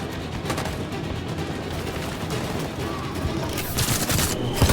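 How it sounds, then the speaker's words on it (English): Dense covering gunfire in Detroit: Become Human, a continuous fusillade of many overlapping shots during a battle, loud and sustained throughout with sharper bursts near the end. "So these guys over here are able to provide covering fire"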